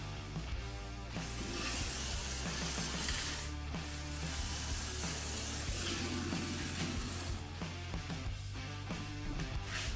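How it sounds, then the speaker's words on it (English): An aerosol rust-proofing spray hisses continuously as it is fed through a hole into a truck frame rail, a steady, fairly close spray with small pauses and gurgling shifts in tone. "whenever I put it in this one hole and spray it back through"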